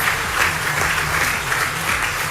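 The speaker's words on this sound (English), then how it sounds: "Let's give her another round of applause." Dense applause from an audience at a charity awards event, a steady wash of many hands clapping at once, loud and close, holding at an even level throughout with no voices standing out.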